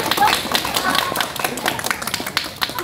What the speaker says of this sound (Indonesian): Tepuk tangan kita semua.